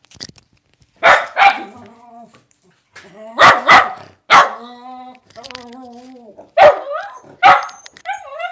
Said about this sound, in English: my neighbor's walking by and Murphy's barking